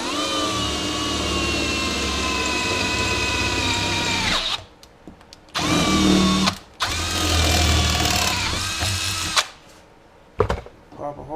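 A power drill runs a 6.5 millimeter bit into a trunk panel on a Nissan Skyline GTR, a loud whining drone with several short stops and restarts.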